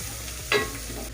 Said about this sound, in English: because I'm also going to add garlic in here